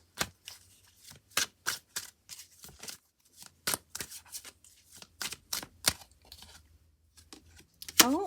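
Tarot cards shuffled in quick, crisp riffling bursts at close range, a string of sharp flicks and slaps spaced irregularly, with a brief higher scrape at the end as a card is drawn.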